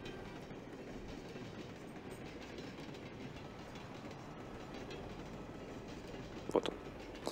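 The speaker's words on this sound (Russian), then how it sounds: "бесконечный поезд, номер раз." An endless train on the de_train map in Counter-Strike rumbles steadily on its rails, a continuous low clatter of wheels at even loudness, closing with a couple of sharper clanks.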